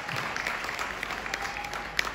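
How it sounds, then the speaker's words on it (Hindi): Applause for leaders at a business success-story event in India, a steady patter of many hands clapping at moderate volume with a few sharper claps standing out. "जोरदार तालियां इन सभी लीडर्स के लिए"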